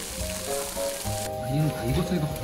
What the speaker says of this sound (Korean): 지글지글 익어가는 소리가 들리시나요?